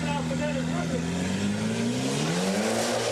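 An off-road 4x4 truck with a Nissan SR20 engine and Fox shocks revs hard at an extreme 4x4 challenge, the engine note climbing steadily and loud, close up, with no pauses.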